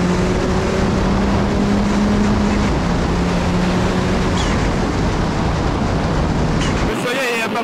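A FUNYO prototype race car drives out onto a circuit, its engine a loud, steady roar with a rising tonal drone, masked by heavy wind rush, while someone speaks over it.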